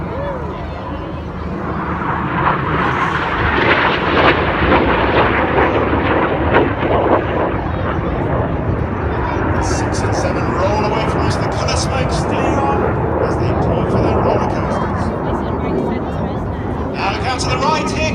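Red Arrows display jets roar overhead at an air festival, a loud, rushing jet noise that swells and lingers, while a commentator keeps talking over it and crowd sounds rise near the end.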